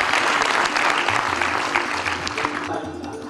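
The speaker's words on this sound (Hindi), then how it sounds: "तो आप सब करतल ध्वनि से इस बात का स्वागत करेंगे।" Audience applause at a Sanskrit poetry and cultural event, a steady dense clapping from many hands filling the hall at moderate loudness, tapering slightly toward the end with no voices over it.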